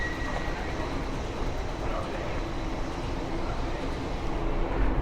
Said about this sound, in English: Six-car train arriving.